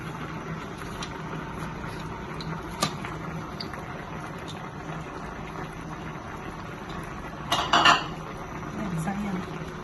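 Saluyot leaves go into a cooking pot of monggo with banana heart over a low simmer, with one light clink early on and a short cluster of clattering and rustling near the end.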